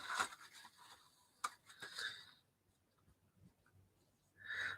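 Chalk or marker strokes on a board during a maths lesson, a few scratchy bursts separated by pauses, moderately close and quiet.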